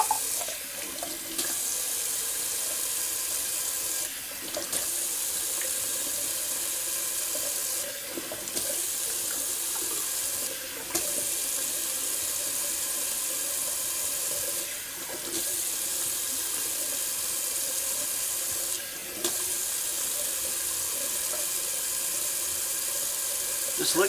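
Cold water runs steadily from a bathroom sink tap for a face rinse, a loud continuous splash interrupted several times by brief dips as hands cup and splash the water.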